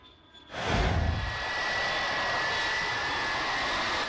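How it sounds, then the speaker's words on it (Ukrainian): An airplane coming in to land, 500 metres above the ground: a loud jet roar swells in after a brief quiet start and then holds as a steady, broad whine. "Літак заходить на посадку 500 метрів до землі"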